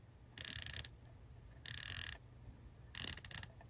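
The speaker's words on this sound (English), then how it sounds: "I'll let you have a listen to the bezel." The rotating bezel of a Surfer Wave Catcher GMT microbrand watch gives three separate runs of rapid, crisp ratcheting clicks with short pauses between turns, close-up and clear against a quiet background.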